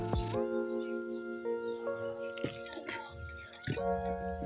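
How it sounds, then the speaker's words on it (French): Water poured gradually into a cooking pot of eru, a Cameroonian vegetable stew, trickles and drips in small splashes and gurgles, close and moderately loud, with some clinking. "C'est mieux de le faire directement dans la marmite. Ajoutez l'eau petit à petit."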